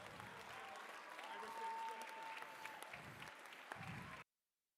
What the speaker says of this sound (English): Let's get one more round of applause for all of our judges.